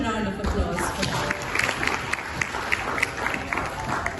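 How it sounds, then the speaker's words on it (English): Applause from the audience at an awards and insights event in Dubai, a dense wash of clapping that stays steady and fairly distant throughout, with crowd noise mixed in. "Can we have a huge round of applause for that?"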